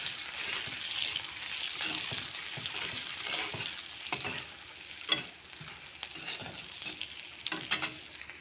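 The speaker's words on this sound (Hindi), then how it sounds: "अभी मैं ज़ीरा दे दूँगी। ज़ीरा के साथ साथ प्याज भी दे दूँगी।" Cumin seeds and chopped onion sizzle and crackle in hot oil in a pan, with stirring scrapes running throughout at close range.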